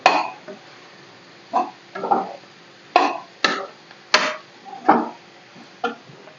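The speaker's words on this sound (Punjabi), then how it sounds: "ਸੋ ਪਹਿਲਾਂ ਥੋੜੇ ਜਿਹੇ ਕੱਦੂ ਕੱਟੇ ਹੋਏ ਪਾਉਣੇ ਨੇ" Chopped pumpkin pieces go into a cooking pot with a series of sharp, close clatters and scrapes of a utensil against metal, about nine separate hits spaced irregularly over a few seconds.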